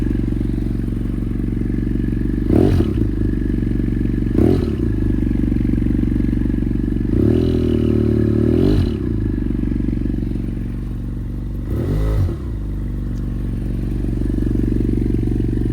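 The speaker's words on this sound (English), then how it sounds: "this is actually a more pleasant engine revving sound" A motorcycle engine idles loudly and steadily nearby, with a few short revs rising above the drone, one longer burst in the middle.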